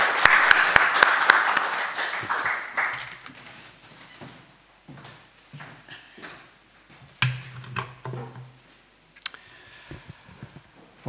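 An audience at an evening talk event claps to welcome a speaker: dense applause for about two seconds, then thinning into scattered claps, with some faint voices in between.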